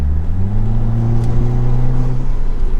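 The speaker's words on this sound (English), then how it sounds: "The only delay there was letting the car downshift and then the turbo spooling." Car with a Pedal Commander throttle controller downshifting, then its turbo spooling, heard from inside as a loud, steady engine drone with tones climbing gradually, no voices.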